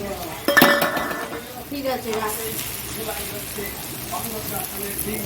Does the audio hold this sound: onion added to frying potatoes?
yes